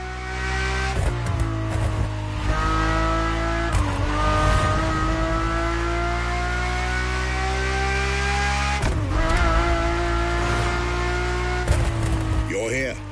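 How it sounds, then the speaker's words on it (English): A Ferrari F50 engine in The Crew Motorfest, a loud, steady drone with rising and falling revs and gear-shift breaks, filling the whole stretch. "a Ferrari F50"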